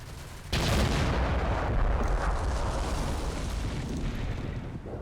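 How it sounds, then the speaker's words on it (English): Artillery fires in Combat Mission Black Sea, a sudden deep boom that swells into a long roaring rumble and slowly fades over several seconds. "So now there's artillery shot."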